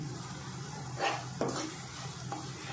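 Onion, tomato and ground masala sauté in a pan for a dhaba-style bhindi masala, a soft, quiet sizzle broken by a couple of short stirring scrapes, with no talking.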